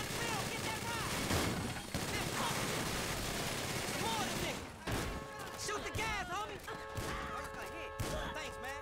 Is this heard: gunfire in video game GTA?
yes